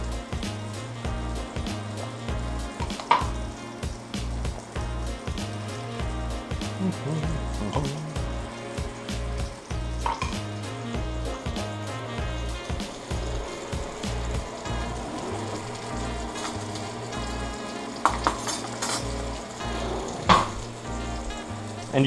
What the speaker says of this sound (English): you can hear the meat starting to cook here